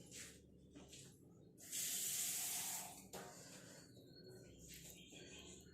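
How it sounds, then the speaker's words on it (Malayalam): Water is sprinkled onto hibiscus flowers being ground into a paste. A quiet spritz is followed by a louder, roughly one-second burst of spraying hiss, then a few shorter soft hisses, with no speech. "ഇത് ഒരു പൊടിക്ക് വെള്ളം ഇങ്ങനെ തളിച്ച് അരച്ചെടുക്കും"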